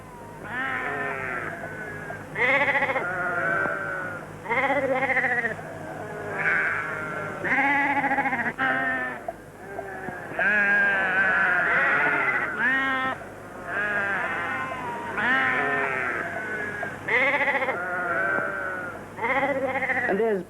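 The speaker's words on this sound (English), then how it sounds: "A flock of sheep in the middle of the main street." A large flock of sheep, being driven to the railhead, fills the main street of Rankins Springs with bleating. Overlapping calls come close and continuously in bursts for twenty seconds, with many animals calling over each other.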